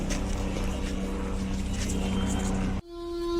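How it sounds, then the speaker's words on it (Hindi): A helicopter flies over snow-clad Himalayan peaks on the road to Kedarnath, its steady engine and rotor drone filling the air with a constant hum before cutting to a quieter tonal whine. "यहाँ आ गया एक और हेलीकॉप्टर।"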